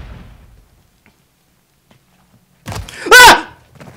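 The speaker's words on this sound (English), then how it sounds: "That was the Doom shotgun." A single heavy Doom shotgun blast in the shooter game Modern Warfare III, a loud near boom after a few seconds of near quiet, preceded by a brief thud.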